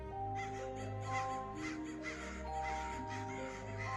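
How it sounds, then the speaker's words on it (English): Several crows caw repeatedly in harsh, overlapping calls over a steady low hum, fairly close and continuous throughout. "when crow caws, it means some guest or relative is coming to see you"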